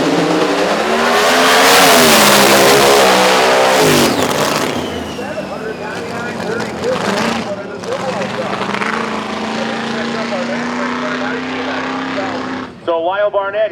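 A drag race car at No Mercy 9's Radial vs the World final qualifying does a burnout to heat its rear tires. The engine roars loud and sustained, then drops and rises with shifting pitch, with a commentator talking over it.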